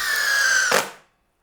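Makita 40V XGT impact driver in bolt mode driving a regular Phillips screw into MDF: a loud, near whirring burst lasting under a second, with a brief rattling impact at the end before it stops.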